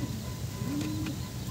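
Racing pigeons in a loft, parent birds of young squabs: a single low, close coo rises briefly over a steady background of murmuring noise.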